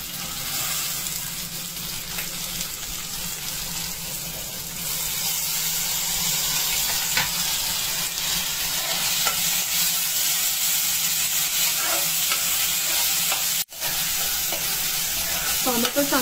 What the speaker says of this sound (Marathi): त्यामध्ये मी टोमॅटो घालते